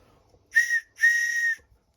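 A hand-carved wooden whistle blown twice, a short clear tone followed by a longer sustained one, bright and close with silence around them, sounding somewhat like a train whistle.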